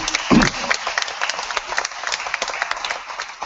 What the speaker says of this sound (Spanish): yo siempre me gusta darle a Gaby un aplauso